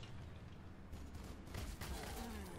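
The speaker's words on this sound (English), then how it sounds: "Good return fire by the Warbikers." Gunfire from battling units in the tabletop-based strategy game Warhammer 40,000: Sanctus Reach, with Warbikers returning fire: a faint, continuous fusillade of rapid distant shots and muffled blasts running throughout.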